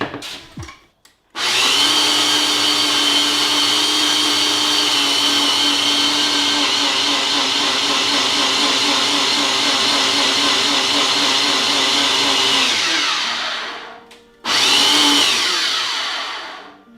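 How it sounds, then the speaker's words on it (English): A kitchen blender whirs loudly and steadily for about twelve seconds blending pesto, stops briefly, then gives one short final burst before winding down. "All right, so we throw this on the blender real quick."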